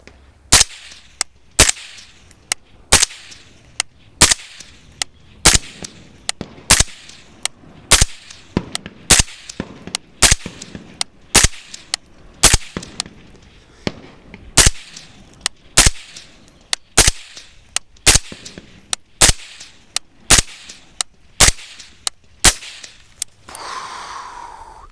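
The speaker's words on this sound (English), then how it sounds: "So I'm gonna put a full magazine through it and see if we can get this thing to pop." A suppressed .22 rifle fitted with a B&T Tiger or Stealth Additive Works suppressor fires a full magazine of about 20 rounds, one sharp report roughly every second, loud and close with short decays between shots and no talk.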